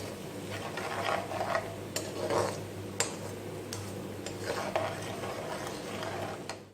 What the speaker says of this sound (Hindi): इस सब चीजों को अच्छी तरीके से एक दफा मिक्स कर देंगे